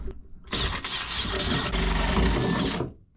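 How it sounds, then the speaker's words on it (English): A drill turning a hole saw cuts through boat material while fitting portholes, a loud continuous grinding whir that runs steadily for nearly three seconds before cutting off abruptly. "Re-chuck up the hole saw"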